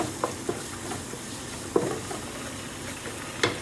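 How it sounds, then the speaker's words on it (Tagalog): Garlic sautéing in a pan makes a steady, moderate sizzle for an adobo dish, with scattered clinks and scrapes of stirring breaking through every so often. "So, ayan, gisa-gisa. At lagyan natin ng bawang."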